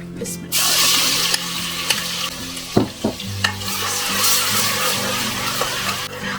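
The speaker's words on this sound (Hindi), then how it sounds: "अदरक लहसुन और गरम मसाला अच्छी तरह से भुन जाए" Close sizzling as ginger garlic paste fries in a pan, with a spoon scraping and clattering against the metal several times over the steady hiss.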